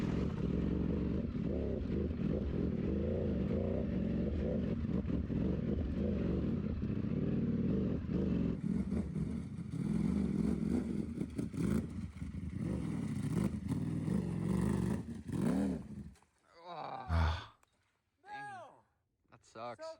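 A dirt bike engine with a throttle problem at low RPM, sputtering and revving unevenly at steady volume for around fifteen seconds, then cutting away to a voice talking in short bursts.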